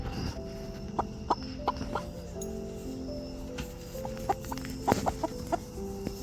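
A pet hen clucks softly while being held and hugged close, giving a scatter of short, low clucks with occasional louder sharp notes over a gentle background rustle, without talk.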